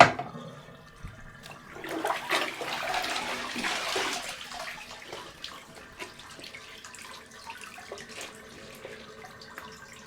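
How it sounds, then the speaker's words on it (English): Laundry soak water drains from a bathtub, a close gurgling, sloshing rush that swells in the first seconds and then settles into a quieter trickling flow. "I'm going to drain out this water."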